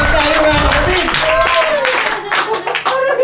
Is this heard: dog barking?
no